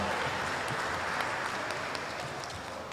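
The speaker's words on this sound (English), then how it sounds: "One more warm applause for Professor Han Art." Fairly faint, steady applause from an audience at a public university lecture on problem-based learning curriculum, a continuous patter of many hands without a break.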